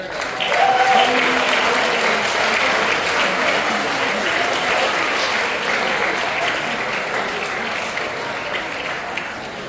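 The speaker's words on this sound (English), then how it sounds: "Let us applaud for the United Kingdom." Sustained audience applause fills a commencement dinner hall, dense and steady from start to finish, with a few voices and faint tonal sounds mixed into the crowd.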